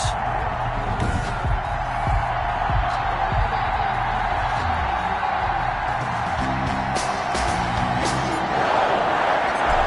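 Stadium crowd noise from an American football video game, Detroit Lions versus Green Bay Packers in Week 15, a steady loud roar with scattered whoops and cheers running the whole time, with low musical or announcer tones underneath.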